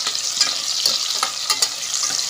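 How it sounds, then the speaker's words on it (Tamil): Small onions sautéing in hot oil for Kongu-style sambar, a steady close sizzle with bright crackling and a few spoon stirs scraping through it, no voices. "சின்ன வெங்காயத்தை போட்டு வதக்கிடுவோம்"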